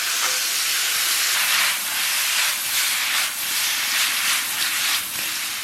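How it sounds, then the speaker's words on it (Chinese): Pork belly sizzles and crackles in a hot wok as it is stir-fried to render its fat for noodle sauce, a loud, steady close hiss that swells and ebbs slightly. "把五花给它下到锅中，然后咱们给它煸炒出油脂"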